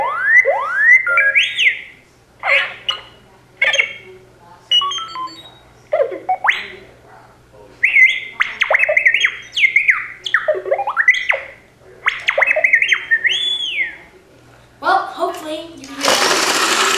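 A Star Wars Droid Depot droid toy at Galaxy's Edge, Walt Disney World, chattering in rapid beeps, chirps and swooping electronic whistles, close by, in bursts with short pauses and a hissy blast at the end.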